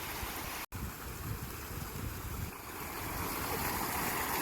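Water pours steadily through a breached beaver dam in a field, a constant close rushing flow with no voices, briefly cutting out for an instant near the start.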